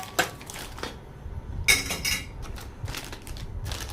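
A metal idli steamer pot is opened and handled, giving a few sharp clanks and clinks of lid and stacked pans with scraping between them, close and fairly quiet, with no talking.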